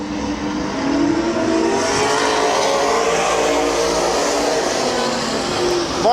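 Stock race cars roar around the oval at Midvale Speedway, a continuous, loud engine drone from several cars running together with no gaps.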